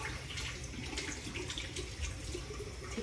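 Water runs steadily from a tap, a soft continuous splashing hiss lasting a few seconds with no voices, recorded quietly.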